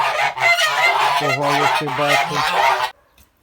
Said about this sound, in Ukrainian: Все ж таки ніби повідомиться як гусак